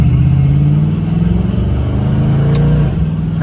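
A 1979 Mercury Capri engine with an exhaust leak pulls hard in first gear, its low droning growl rising steadily in pitch, loud and close throughout with no voices.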